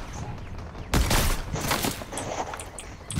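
Rapid gunfire in the video game Fortnite, a burst of sharp shots about a second in followed by scattered further shots, mixed with in-game effects and a player's voice.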